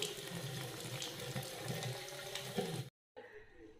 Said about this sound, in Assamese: ধুনীয়াকৈ মুখখন ধুই দিয়া দেই।